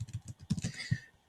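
Quick typing on a computer keyboard, a close run of light, even key clicks that taps out and stops partway through.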